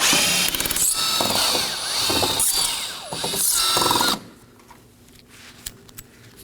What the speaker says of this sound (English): I'll be using a T15 bit on drill to remove these.